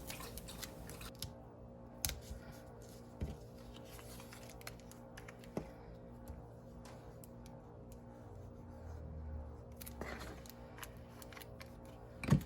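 Scissors snip repeatedly through paper while a paper circle is trimmed down for an ornament, producing quiet, close, irregular crisp cuts with short pauses between.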